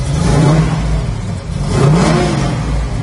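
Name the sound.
1969 Chevrolet Camaro Yenko-style big-block engine revving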